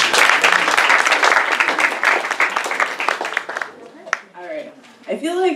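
A big round of applause from an audience at a harm reduction training, dense clapping for about four seconds that then fades, leaving a few scattered claps as someone starts to speak.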